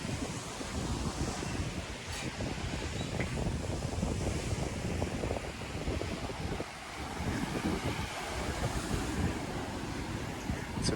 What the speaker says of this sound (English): It's a bit windy today.